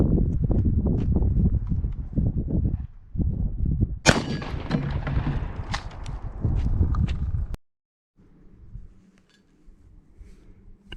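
Rifle rounds strike a steel plate outdoors, a sharp metallic crack near the four-second mark with ringing clangs and clatter following, then quiet after a sudden cut with low rumble and faint thumps.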